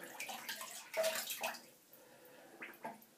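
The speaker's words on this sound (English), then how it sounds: "let me just wet my face." Tap water runs briefly to wet a face before a shave, a soft splashing stream with a few louder bursts that fade into quieter drips and trickles.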